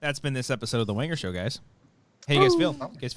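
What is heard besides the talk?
No distinct noise like a dog, phone or traffic.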